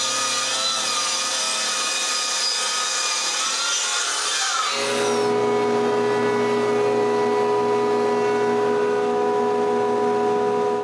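A power saw cuts plywood sheets in a workshop, a loud, steady rasping whine that shifts to a sustained tonal drone midway, close and continuous with no voices.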